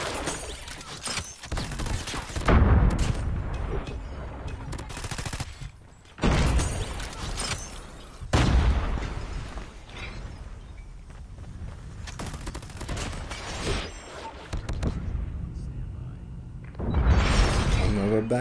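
Bursts of gunfire from a Call of Duty Mobile ranked match, several loud volleys and shots separated by brief lulls, with game effects between them and an attacker firing from behind.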